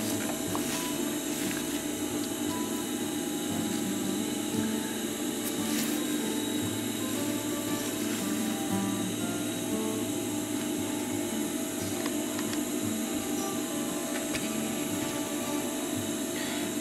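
A sewing machine runs steadily, stitching a dense, compacted seam through the canvas of a climbing chalk bag. The mechanical whir and ticking hold at an even level throughout with no pauses, close by and fairly loud.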